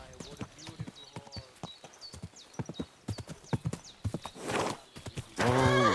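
In Kingdom Come: Deliverance 2, hooves clip-clop in a steady walking rhythm, close and crisp, followed by a horse whinnying loudly at the end, with speech-like sounds mixed in.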